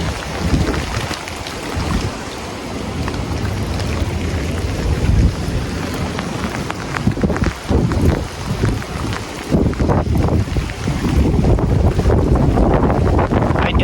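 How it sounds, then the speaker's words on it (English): Strong winter storm wind roars continuously against the microphone, gusting and buffeting loudly throughout with a rough, rumbling rush. "Cause that's where the wind was."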